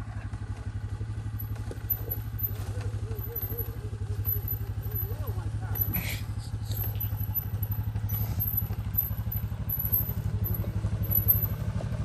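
A Yamaha Grizzly ATV engine runs steadily as the quad pulls out of mud. The engine drone is continuous and fairly close, with faint clatter over it and people talking nearby.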